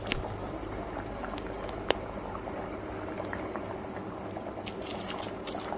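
Curry sauce boiling hard in an uncovered pot as it reduces, a steady, busy bubbling and simmering hiss that continues evenly throughout, with a few small clicks and no one speaking.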